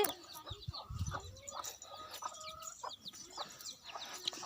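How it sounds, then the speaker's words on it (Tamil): A hen clucks in low, repeated calls while her four small chicks, hatched four days earlier, peep in high, thin chirps around her. "இது வந்து நாலு கோழி குஞ்சு வச்சுருக்கு"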